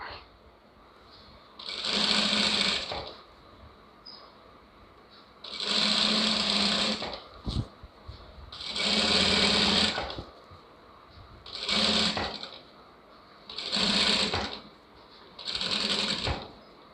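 A sewing machine stitches a lined blouse in six separate bursts of fast whirring, each a second or two long, separated by quieter gaps with faint handling noise, close by.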